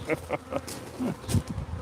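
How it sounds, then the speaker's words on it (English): A swarm of Africanized European honeybees in a birdhouse: a close, pulsing insect buzz with several short swells and dips over under two seconds, without speech. "So they're European honeybees that have been Africanized."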